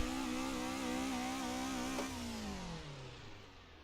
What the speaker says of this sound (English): You're going to give yourself some nice rev and just let off the clutch.